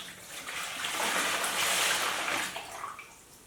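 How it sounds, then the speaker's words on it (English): Homemade ginger beer pours into a big container in a steady, rushing stream that swells and then eases off, heard up close with no voices. "So I'll start filling this up."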